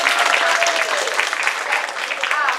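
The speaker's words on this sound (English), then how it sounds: "We want to give y'all a round of applause." Applause from a conference audience at a business kick-off event, a dense steady clatter of many hands filling the room, with voices and cheering mixed in throughout.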